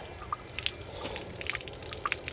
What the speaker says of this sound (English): So here's the water flow now.